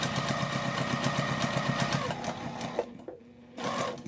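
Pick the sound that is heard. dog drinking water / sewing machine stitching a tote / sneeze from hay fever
sewing machine stitching a tote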